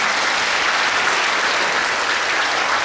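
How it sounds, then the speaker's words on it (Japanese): A concert audience applauds to welcome a performer, giving a dense, steady wash of clapping that stays loud and even throughout, with no voices standing out. "拍手でお迎えください"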